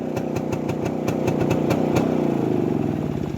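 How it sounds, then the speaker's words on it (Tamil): A vintage Kawasaki KB100 two-stroke motorcycle idles nearby, its exhaust putting out a steady, loud, uneven popping beat with regular sharp cracks, alone with no voices. "அது பார்த்தீங்கன்னா கவாஸ்கி KB100. எக்ஸாஸ்ட் சவுண்டே பார்த்தீங்கன்னா மிரள வைக்கும்."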